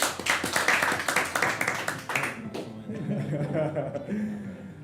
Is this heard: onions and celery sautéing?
no